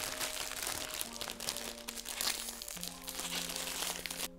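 Plastic wrapper of a Japanese strawberry KitKat being opened, with close, crisp crinkling and rustling throughout a few seconds over a faint steady hum.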